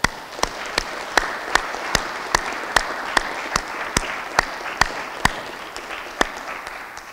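Applause for the graduating class of 2021 at an MFA commencement ceremony, heard as sparse, regularly spaced sharp claps over a soft crowd-noise bed, fairly quiet and distant.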